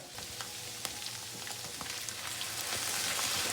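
Potatoes fry in a pan, giving a close, continuous sizzle dotted with sharp pops and crackles that grows slightly louder toward the end.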